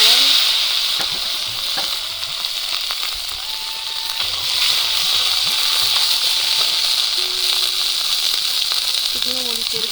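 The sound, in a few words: curry boiling and sizzling in a pan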